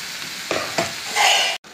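Boiled broad beans fry in an open pan for a curry, crackling up close, with a couple of stirring scrapes before a brief cut in the sound.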